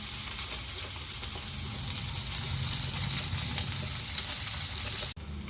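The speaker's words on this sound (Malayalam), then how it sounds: "അത് തിരിച്ചും മറച്ചു വെച്ച് നമുക്കതൊന്ന് ഫ്രൈ ചെയ്തെടുക്കാം" Paneer cubes fry steadily in hot oil in a pan, giving a continuous dense sizzle that holds level throughout, with a brief dip near the end.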